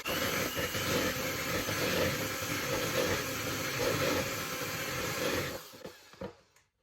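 An electric mixer whirs steadily as it softens butter for cupcakes, a continuous loud motor drone that runs for several seconds before winding down and stopping, followed by a few faint clicks.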